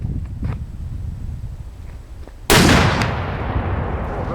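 A Hotchkiss 2-pounder mountain gun fires a single round outdoors: one sudden, very loud blast cuts through a quiet background, then a long rumbling decay rolls on for several seconds.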